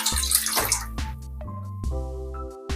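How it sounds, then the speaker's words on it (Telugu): Water is poured from a cup into a pan while making wheat rava prasadam. A brief splashing pour comes first, then quieter trickles under steady, sustained tones. "ఇదే కప్పుతో కలుస్తున్నాను నేను వాటరు"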